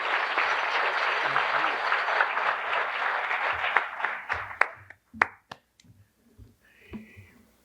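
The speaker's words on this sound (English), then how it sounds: "Another round of applause for all of the individual givers" An awards-ceremony audience breaks into dense, loud applause that thins out into a few scattered claps and taps before fading, with a faint voice at the end.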